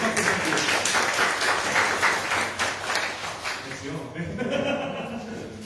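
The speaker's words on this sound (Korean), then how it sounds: "다시 한번 오늘 큰 박수 부탁드립니다" A crowd claps steadily in a dense burst of applause, which thins out toward the end as a voice starts to speak over it.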